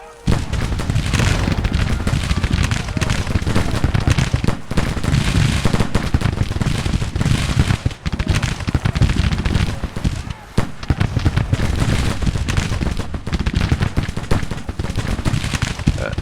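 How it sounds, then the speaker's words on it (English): Massed musket fire from Civil War troops in Grand Tactician, a continuous crackling fusillade of overlapping shots, some close and loud, others more distant, with a voice talking over it. "Advance and keep firing"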